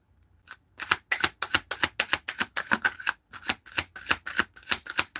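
Tarot cards being shuffled by hand, a rapid series of crisp riffling bursts in quick rhythm, close and clear, with no talking.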